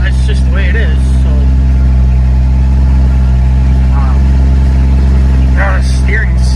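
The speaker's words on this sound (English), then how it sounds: "fire it up, it'll run like shit, and then you just push the choke in as it warms up" A John Deere L130 lawn tractor's small engine idles steadily and close, running rough on choke with a constant low drone beneath intermittent speech.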